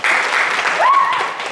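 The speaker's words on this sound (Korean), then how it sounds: "우리 세종님 박수 한번 치세요" A lecture audience gives a short burst of applause, a dense even clatter of many hands. A brief voice rises over it partway through.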